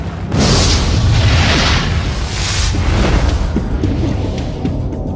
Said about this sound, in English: It's just the sheer, terrible beauty of a really dramatic explosion from the inside.